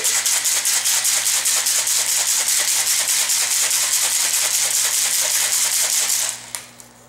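A cocktail shaker packed with ice and a Maker's Mark, triple sec and bitters mix, shaken hard in a fast, steady rattling rhythm for about six seconds, close and loud, then stopping abruptly.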